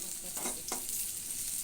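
Onions frying red in a tempering for chicken curry, a continuous close sizzle with a couple of brief stirring scrapes.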